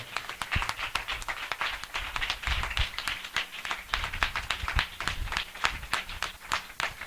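Enthusiastic clapping from a church congregation, a dense, steady patter of many hands sustained throughout.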